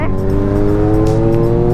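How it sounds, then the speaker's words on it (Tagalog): A Honda Rebel 500 motorcycle engine gives a loud, steady drone with strong harmonic tones, held close throughout, running at a constant pace. "ganda ng tunog ng motor mo."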